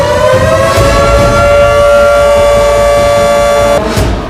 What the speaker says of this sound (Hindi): यूक्रेन में एयर अलर्ट के सायरन गूंजने लगे।